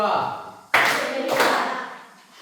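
Classroom of students clapping hands together on a teacher's cue, a sudden burst of crisp, loud applause from many hands near by, with a second surge before trailing off, preceded by a teacher's voice.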